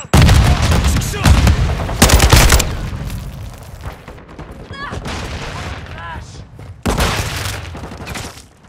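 Gunfire in the video game Call of Duty: Modern Warfare II: loud, dense bursts of automatic fire and booming blasts, with heavy volleys at the start and again near the end, separated by quieter stretches, and shouted voices mixed in.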